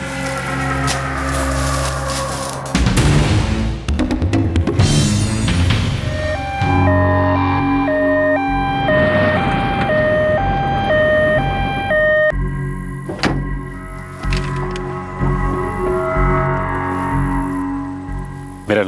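An ambulance siren wails loudly with rising and falling electronic tones, layered over dramatic music and effects in a scene from the Indian crime series Crime Patrol.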